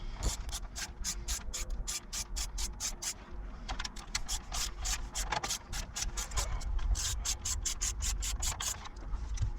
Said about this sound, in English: We're going to remove these two screws, holds this panel on.